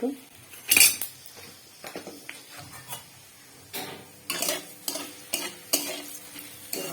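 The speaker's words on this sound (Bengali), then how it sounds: "ভেজে নিচ্ছি সুন্দর গন্ধ আসবে পাঁচফোড়নের" Bay leaf, panch phoron spices and dried chillies frying in oil, with a faint sizzle beneath repeated sharp clinks and scrapes of a metal spoon stirring against the pan.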